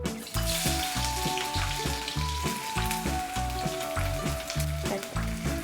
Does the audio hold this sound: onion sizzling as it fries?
yes